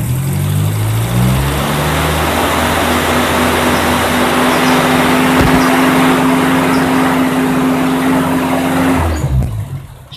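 A car engine held at full throttle during a charging-system voltage regulator test drones loudly and steadily at high revs for about nine seconds, then drops off abruptly at the end.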